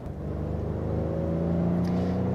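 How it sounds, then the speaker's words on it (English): A 2021 Acura TLX A-Spec engine pulls while driving, a steady rising drone with climbing harmonics and a faint whir, heard from inside the car with road rumble underneath and no talk. "That's when this engine really comes to life."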